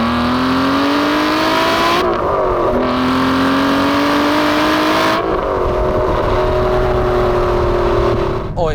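A 2011 manual Aston Martin V12 Vantage revs hard and climbs in pitch through several gear changes, loud and close, with brief dips between shifts.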